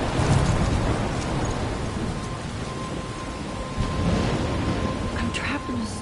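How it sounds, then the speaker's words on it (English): Thunderstorm in the video game Lis: steady heavy rain hissing all around with deep rolling thunder rumbles, loud and continuous with no break. "I'm trapped in a storm?"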